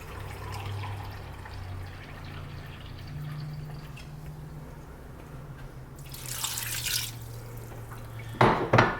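A cup of water is poured into a pan for candy popcorn syrup made with corn syrup, giving a short splashing rush after steady kitchen background, then a brief clatter at the end.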